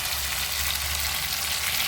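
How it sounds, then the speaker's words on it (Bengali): Mixed vegetables frying in a pan with water just added, giving a steady, close hiss of sizzling and bubbling with a low rumble underneath, continuous throughout. "এই মুহূর্তে আমি অ্যাড করে দেব জল।"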